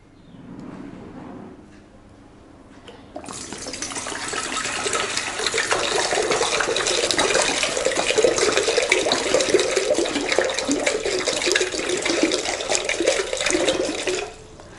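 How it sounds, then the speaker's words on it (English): Water gushes steadily from a bottle into a container, a continuous close splashing pour lasting about ten seconds before it stops abruptly. "I am going to empty this bottle of water into this vessel"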